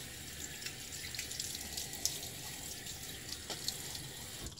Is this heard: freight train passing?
no